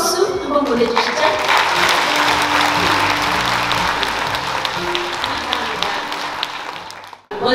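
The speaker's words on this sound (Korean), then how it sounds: "서로에게 뜨거운 박수 한번 보내주시죠" Audience applause fills a Yeongdong County Day anniversary ceremony, a steady, dense wash of clapping that holds loud for about seven seconds before cutting off abruptly, with some low background murmur beneath.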